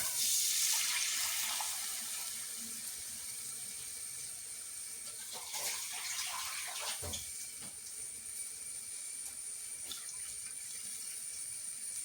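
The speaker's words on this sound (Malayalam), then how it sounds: "അപ്പോൾ നമുക്കിതിലോട്ട് കുറച്ച് വെള്ളം ഒഴിച്ചു കൊടുക്കാം" Steady running water pours and splashes into a cooking pan for several seconds, a continuous hissy stream with a few faint clinks mixed in, fairly close.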